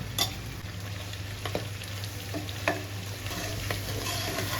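Mutton intestine curry with added chili powder being sautéed in a pan, an even close sizzle punctuated by a handful of sharp spatula scrapes and taps, over a faint low hum, with no voices.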